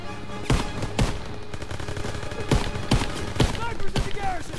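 Gunfire in the video game Call of Duty WWII during a fight to retake Paris, a dense run of loud rifle and machine-gun shots cracking over a constant battle din, with shouting voices mixed in.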